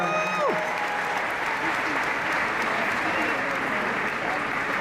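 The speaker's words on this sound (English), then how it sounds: "Give a round of applause to Thomas Tull, everybody" A Comic Con audience in a large convention hall applauds Thomas Tull, a dense, steady roar of clapping that holds for several seconds, with a voice speaking briefly near the start.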